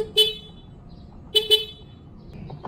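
Three short horn beeps from a 2024 Yamaha Aerox scooter: one quick toot, then a pair close together about a second later, fairly close with faint background hum and no talking.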